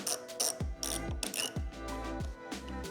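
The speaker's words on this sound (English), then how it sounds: "Let me release my wrench." A ratchet wrench clicks rapidly while loosening a screw on a Honda Goldwing motorcycle housing, delivered in several short ratcheting bursts with brief pauses between strokes, close and fairly loud.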